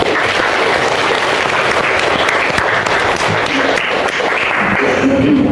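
A classroom of students in an Islamic jurisprudence lesson breaks into dense, steady applause that carries on without a break, loud and close, with no clear talk over it.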